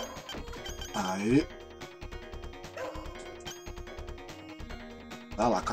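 A dog in the Shadow Dancer arcade game gives short barks and yips over busy, looping game music, with other action effects around it.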